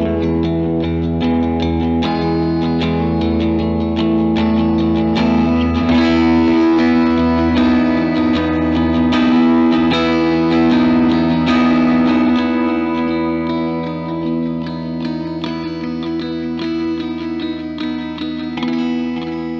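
Electric guitar through compression and overdrive, playing sustained distorted chords and notes with a dense, steady tone and some echo and reverb, loud and continuous for about twenty seconds with no talking.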